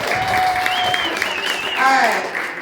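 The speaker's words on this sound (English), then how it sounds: "Give them a round of applause." A school robotics club exhibition audience gives a round of applause for the students, broad steady clapping that holds loud throughout, with whistles or cheers rising over it.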